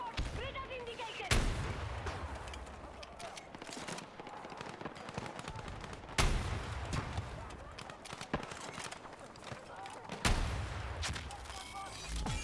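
Heavy gunfire and explosive blasts in Battlefield 6 Breakthrough mode: three loud booming bursts stand out over a continuous crackle of combat noise, with a voice talking over it.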